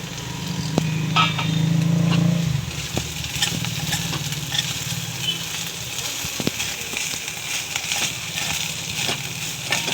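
Steamed fenugreek leaves (methi) sizzle in a pan, a steady soft hiss with faint crackles, close and continuous, and a low rumbling hum appears briefly near the start.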